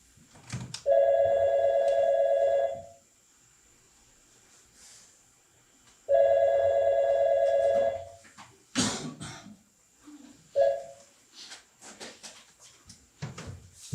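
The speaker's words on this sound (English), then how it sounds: "I think you should pick up the phone." A telephone rings indoors in two long, loud electronic bursts separated by a pause, followed by a brief third partial ring, then clunks and handling noises as the receiver is picked up.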